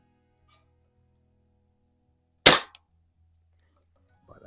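A single sharp gunshot cracks out while plinking at a can with a scoped rifle outdoors, one loud close report with a short decaying tail amid otherwise near silence.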